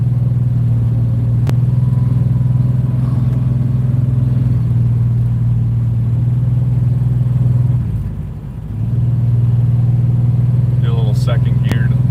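Barracuda car engine pulling hard from second into third gear, a loud, steady low drone close by that dips briefly at the shift before resuming its constant roar.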